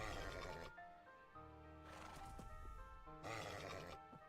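A horse in a video game neighs in long, harmonic whinnies, three of them in a row, fairly loud against a steady ambient background.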